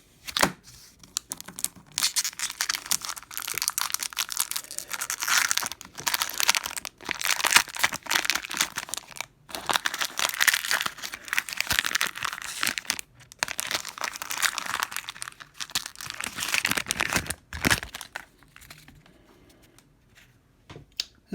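An old Magic: The Gathering card pack is torn open and handled, with bursts of crinkling foil wrapper and rustling cards coming in irregular clusters separated by brief pauses, close up and fairly quiet.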